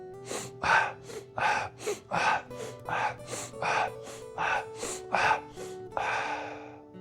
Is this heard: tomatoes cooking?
no